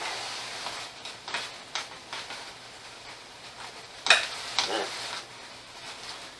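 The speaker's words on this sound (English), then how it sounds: "Stir that all up." A spoon stirs a quinoa stuffing mixture with old-fashioned rolled oats in a pan, giving a soft continuous scraping and light sizzle with a few sharper clacks, close and unaccompanied by talk.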